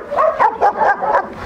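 Several dogs, including a German Shepherd, bark and yip in quick overlapping bursts, loud and close with no talk over them.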